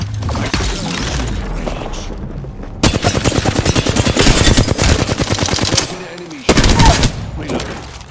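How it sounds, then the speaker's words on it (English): Bursts of automatic gunfire in Apex Legends, loud and close, with rapid machine-gun rattles and sharp impacts that stop and restart in several volleys, mixed with game effects and brief voice lines. "Listen up, I'm getting shot at"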